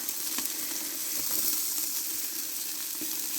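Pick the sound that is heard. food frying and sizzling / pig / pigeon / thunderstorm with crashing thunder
food frying and sizzling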